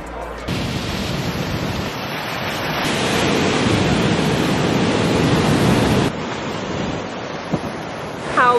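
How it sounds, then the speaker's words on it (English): Ocean surf washes onto a beach in Baja California, Mexico, a broad continuous roar of breaking waves that swells and eases slightly, heard up close with some wind buffeting the microphone and no talk. "First of all, the sound of those waves"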